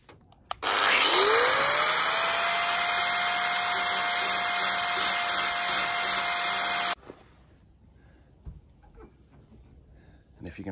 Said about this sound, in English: now I'll take the grinder and just take a little edge all around